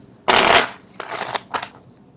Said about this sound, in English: I don't know why people like to see the card shuffle live, I guess.